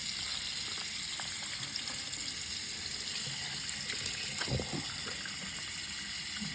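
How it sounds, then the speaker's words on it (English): Water pours steadily into a container to soak a sponge eraser, a continuous splashing fill heard close up, with brief bubbly gurgles near the end and no voices. "Fill this up with water. Get it nice and saturated."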